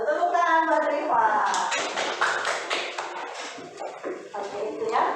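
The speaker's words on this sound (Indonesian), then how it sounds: "Tepuk tangan buat Rifa." Students in a classroom applaud a classmate with a brief patter of quick claps mixed with talking voices, loud at first and then thinning out.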